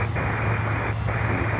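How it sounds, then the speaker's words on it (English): ABX Air Boeing 767 freighter jet on approach, a loud steady engine roar with a low hum, heard alone for under two seconds. "767 freighter from ABX Air coming in."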